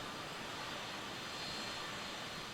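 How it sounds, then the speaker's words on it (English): A Boeing 787 taxiing at an airport in the video game Tower! Simulator 3, set at Auckland, gives a steady, fairly faint jet engine whine and rumble that holds throughout. "There goes the 787, taxiing around."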